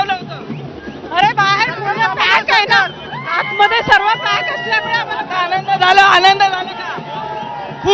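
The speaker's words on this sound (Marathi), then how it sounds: "हा जल्लोष आहे हा आवाज आहे" Large crowd of Thackeray supporters outside the Worli Dome cheering and shouting, with rising whoops and overlapping voices in loud surging bursts, close by and busy throughout.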